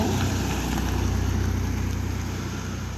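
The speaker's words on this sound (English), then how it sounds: "Cars are going by" Steady broadband traffic rumble along a street, cars passing continuously at moderate loudness with wind-like noise on the microphone and no talk.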